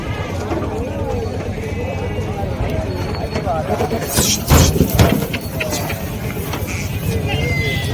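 Goats bleat several times amid a busy outdoor goat-market crowd, with people talking throughout and a louder burst of bleating near the middle.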